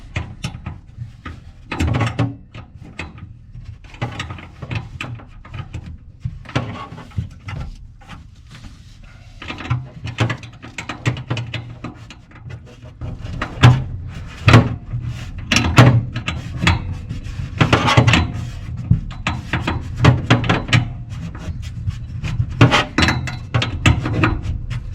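A through bolt and nut on an aircraft flap are worked loose with a 7/16 wrench and vise grips, giving scattered metallic clanks, taps and scrapes, irregular and close, growing busier and louder in the second half.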